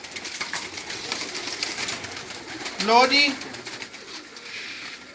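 Domestic pigeons coo at a loft, a soft burbling call rising near the middle under steady background noise, with people talking in Hindi-Urdu around them.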